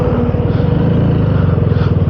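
A KTM Duke 250 motorcycle cruising in fourth gear, its engine giving a steady, close, even putter with a smooth, regular firing rhythm and no voices over it.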